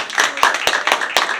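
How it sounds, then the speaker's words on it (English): A few people clap in a small audience, a brief sparse patter of distinct claps close by, lasting just over a second. "Give them a round of applause."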